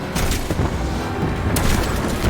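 Missile explosions in the Destiny 2 video game, heavy booms and crackling blasts rolling one into another, loud and close, with a fresh burst partway through.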